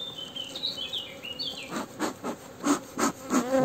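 Black honeybees, a divided and slightly nervous colony, buzz at an artificial-swarm hive; close wingbeats whine and drone at varying pitch, with soft thumping and rustling from handling the hive and no talking.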